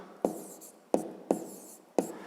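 A pen writes out a math solution in four distinct strokes, each a sharp scratch that fades, close and fairly quiet.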